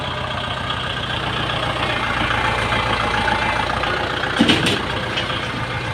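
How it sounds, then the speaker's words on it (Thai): A Kubota L5018DT tractor engine runs at a steady idle nearby, with a continuous, even low rumble and mechanical clatter throughout and no talking. "เดี๋ยวมาฟาฟังเสียงเครื่องครับ"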